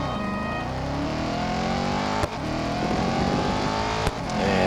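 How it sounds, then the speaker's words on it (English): An Aston Martin Vantage GT4 race car engine in the racing game Real Racing 3 roars loud and close, its revs climbing steadily with two brief dips, likely gear shifts. "this definitely sounds like Aston Martin"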